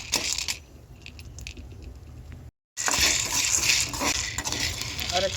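Avarekalu (field beans) roasting in a pan over a flame for a village-style curry, giving a steady dense crackle and sizzle throughout, briefly cut off, then returning louder and busier.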